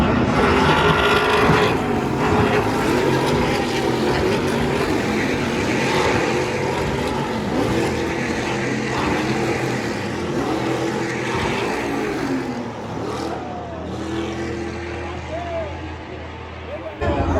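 Race cars roar around the Long Beach Grand Prix street circuit, their engines a continuous loud drone with rising and falling pitch as they pass, while a commentator talks throughout.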